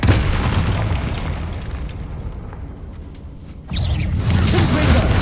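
Confringo blasting spells bursting in a Hogwarts Legacy catacomb dungeon fight: dense, rumbling booms, a quieter lull, then a sharp fresh blast and rolling crackle near the end.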